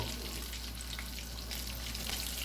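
Breaded, floured Louisiana seafood cake frying in hot grease, a steady close sizzle with crackling pops running evenly throughout.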